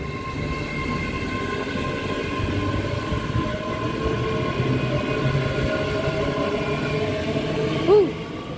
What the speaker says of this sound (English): Please stand clear of the platform edge, fast train approaching.